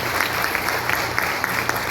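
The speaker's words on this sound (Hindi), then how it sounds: "तालियां।" An audience at a wellness company's training event in Nagpur applauds, a steady mass of close clapping hands that stays at even volume for the whole short burst.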